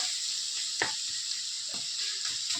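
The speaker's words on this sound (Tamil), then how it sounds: "இப்படி தக்காளி நல்லா வதங்கணும்." Tomatoes sautéing in a pan for chicken liver gravy give a steady, close sizzling hiss throughout, with a few soft clinks and scrapes from stirring.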